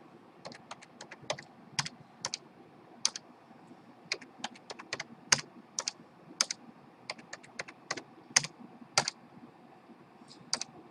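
Rapid, irregular clicking of computer keys, close by and steady, with short bursts of keystrokes and no voices.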